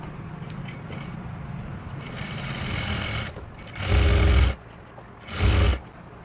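An electric sewing machine stitches salwar fabric in two short, loud mechanical runs of rapid needle clatter, separated by a pause and preceded by quieter handling sounds.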